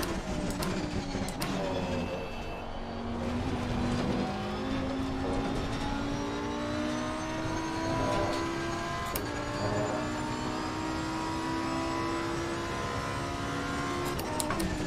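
A video game car engine revs up through the gears, rising whining pitch sweeps repeating over several shifts, moderately quiet, with brief clicks between.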